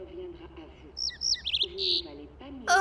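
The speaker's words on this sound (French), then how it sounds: "Tu veux nous aider, petit oiseau?" A cartoon bird chirps in a run of quick high tweets, close and clear, with a character speaking briefly around it.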